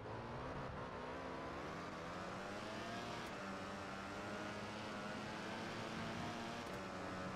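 Scott Redding's racing motorbike pushed hard around Silverstone in Valentino Rossi The Game, its engine a loud, continuous high-revving whine whose pitch climbs and shifts through gear changes for the whole stretch, close up with no voices over it.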